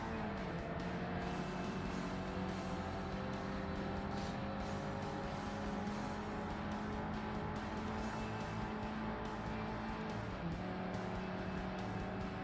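Racing car engines in the video game Forza Motorsport (2005) drone steadily throughout, several motors humming and revving together with occasional tire squeals, no talking.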